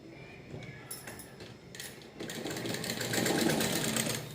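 A sewing machine stitches a pajama in short bursts, its rapid mechanical whirr starting and stopping, then running continuously and louder toward the end, close up with no talk.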